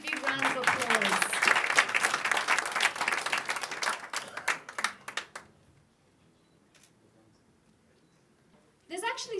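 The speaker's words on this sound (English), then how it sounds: "Please give Benedict a big round of applause." An audience applauding a runner-up at a documentary screening showcase, a burst of crowd clapping that thins out and falls to near silence, with a voice speaking at the very end.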